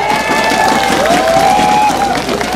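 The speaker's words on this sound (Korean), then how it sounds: "박수 한번 해주세요." Crowd applauding and cheering at an outdoor Liberty Korea Party election rally on a Jecheon street, a steady dense wash of noise with a sustained whistle or tone running through it.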